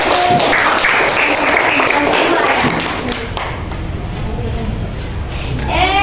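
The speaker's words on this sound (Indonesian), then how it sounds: "Tepuk tangan dulu untuk kelompok 1" Classroom applause for a student group, brisk clapping that fades partway through, leaving softer taps, thuds and a voice before rising again at the end.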